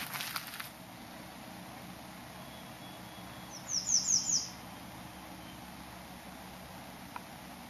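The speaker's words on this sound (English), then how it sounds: "So the white-throated sparrow is back." A short, high whistled birdsong phrase rises out of quiet outdoor background, heard once at moderate distance.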